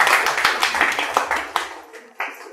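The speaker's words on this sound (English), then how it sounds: "can we all give a nice clap to the AuroBharati team?" An audience at a cultural heritage conservation symposium in Pondicherry gives a short round of clapping for the AuroBharati team, a brief burst of close hand claps that fades away within a couple of seconds.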